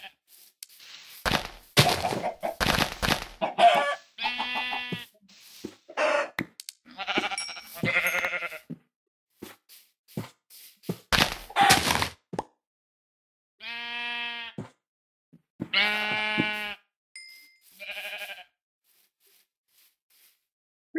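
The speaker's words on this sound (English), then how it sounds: "There's sheep." Minecraft sheep bleating in repeated short calls scattered through the stretch, loud and close, mixed with a few thunks and blocky impact sounds between them.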